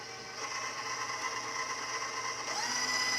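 A stand mixer on low speed works deep dish pizza dough made with rye flour, giving a steady, fairly quiet motor whir that holds evenly throughout with no voices.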